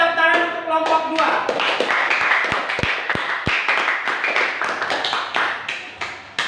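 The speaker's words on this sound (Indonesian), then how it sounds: "tepuk tangan untuk kelompok 2" A classroom of students clapping together for a presenting group, a dense burst of many hands with a few sharper close taps, fairly loud and sustained, then tapering off.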